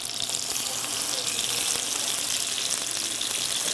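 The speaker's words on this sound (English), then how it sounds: "I'm just going to brown these pork chops" Pork chops brown in a hot pan with a dense, loud, continuous sizzle and hiss, heard close and steady with only faint stirring underneath and no voices.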